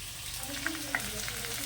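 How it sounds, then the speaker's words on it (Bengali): Potatoes frying in a pan, a steady crackling sizzle with a couple of brief sharper pops. "মোচার আলুটা ভেজে নিচ্ছি"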